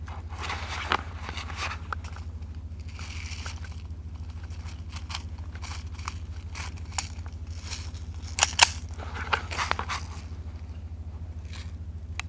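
A BB pistol being loaded by hand: scattered scraping, clicking and rattling handling noises, with a cluster of sharper clicks toward the end, all over a constant low rumble.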